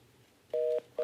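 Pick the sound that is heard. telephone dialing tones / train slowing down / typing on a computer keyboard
telephone dialing tones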